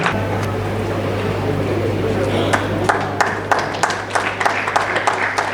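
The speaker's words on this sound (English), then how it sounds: "Let's give a big round of applause for all the students" An audience at a student felicitation ceremony gives the students a round of applause: scattered, irregular claps grow more frequent toward the end over a steady low electrical hum and background talk.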